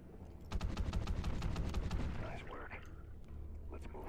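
Muffled underwater gunfire in Call of Duty: Ghosts, a sustained rapid burst of dull repeated shots over a low rumble, tapering into scattered quieter bursts, with game voices underneath.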